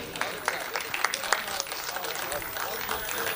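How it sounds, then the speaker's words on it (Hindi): Scattered applause from the audience at a Hindi comedy poetry gathering, a kavi sammelan, with sharp individual claps in a steady patter under a faint murmur of the crowd. "तालियां बजा दीजिए जिया साहब के लिए"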